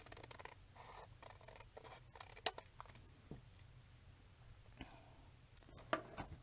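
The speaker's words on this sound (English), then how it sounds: "And I'm doing this with the scissors." Scissors snip through junk mail paper during a craft session, producing a series of soft, crisp cuts and light rustles at close range with brief pauses between strokes.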